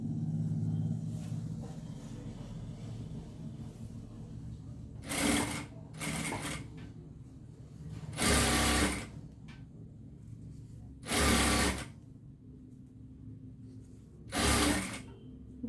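A sewing machine stitches thread piping in four short, loud bursts of rapid whirring, separated by quieter pauses with a low background rumble.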